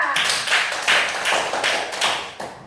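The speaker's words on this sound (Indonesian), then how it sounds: "Beri tepuk tangan untuk Diva." Schoolchildren in a classroom give a classmate a round of applause, steady rhythmic claps in a short cluster, close and fairly loud, with no speech.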